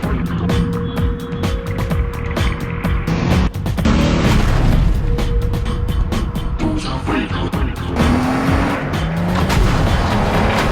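A Cadillac XTS with a 410-horsepower twin-turbo engine drives in a commercial. Loud engine roar and whooshing passes mix with tire squeal and a booming hit, dense and continuous throughout.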